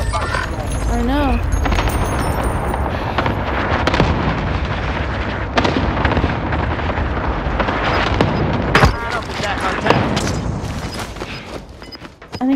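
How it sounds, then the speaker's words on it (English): Cluster strike explosions go off in a Call of Duty Warzone match on Rebirth Island, loud rumbling booms and crackling blasts piling up dense and continuous beneath players talking over voice chat. "Enemy cluster strike incoming"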